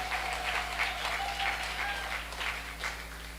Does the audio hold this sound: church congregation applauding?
yes